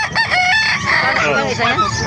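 A gamecock rooster crows loudly and close, a drawn-out strained call, with other chickens clucking and crowing around it at a poultry market in Calumpit, Bulacan.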